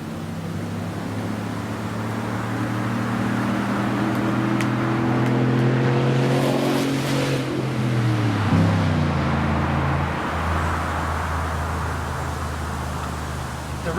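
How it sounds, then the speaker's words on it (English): A car races up a hill, its engine hum rising as it approaches and then dropping in pitch as it passes close by and fades into the distance. "Got a car coming. They all race up this hill."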